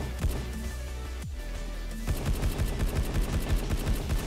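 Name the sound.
rapid gunfire from a new gun in the video game Truy Kích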